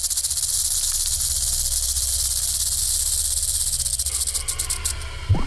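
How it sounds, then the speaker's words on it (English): A rattlesnake's rattle: a continuous, dry, high-pitched hiss-buzz that holds steady and then breaks off near the end. "The older the rattlesnake gets, the longer its rattle."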